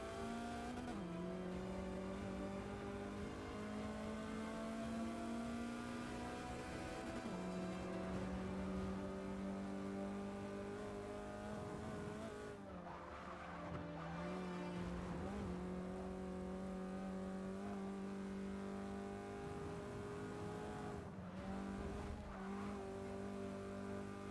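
A Mazda Miata's engine rumbles and revs through gear changes while racing in Forza Motorsport 6, a steady buzzing drone that rises and drops with shifts and braking, fairly quiet and close, with no talk.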